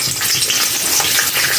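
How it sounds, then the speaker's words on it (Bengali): Garlic cloves frying in hot oil in a home kitchen, giving a steady, close, loud sizzle with bubbling crackle throughout and no talking. "এটা ভালো করে একটু ভেজে নিতে হবে।"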